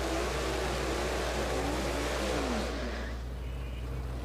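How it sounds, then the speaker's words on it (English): A Fox body Ford Mustang drag car at a night drag strip revs hard, its engine roaring as a steady, dense, loud drone with a rising pitch sweep before it tapers off. "That Mustang sounds angry."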